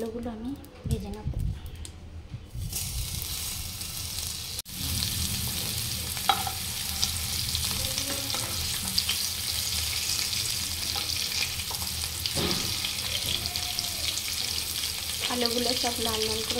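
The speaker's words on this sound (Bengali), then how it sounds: "ওই তেলেতে এবার আলুগুলো আমি ভেজে নেব।" Potatoes frying in the leftover oil in a wok, a dense continuous sizzle with spatula scrapes and clinks, while a person talks over it at intervals.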